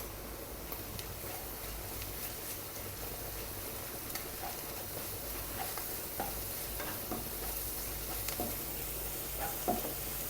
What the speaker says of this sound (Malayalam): ഇനി ഇതിലോട്ട് ഒരു table spoon ginger garlic paste ഇട്ട് കൊടുത്തിട്ടുണ്ടേ.